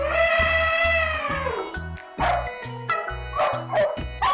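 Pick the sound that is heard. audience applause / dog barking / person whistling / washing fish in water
dog barking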